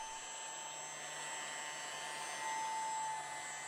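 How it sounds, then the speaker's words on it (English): A homemade centrifugal impeller blower runs with a steady, high-pitched whine and airy rush, holding even and close throughout before cutting off abruptly at the end. "the spinning vanes in the impeller make the air spin too, flinging it out like children on a merry-go-round"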